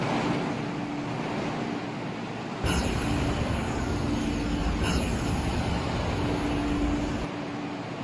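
An MTR East Rail Line MLR train in a Roblox game rumbles past platform 2 at Kowloon Tong station: a steady, loud rushing roar that swells midway, with a faint station tone underneath.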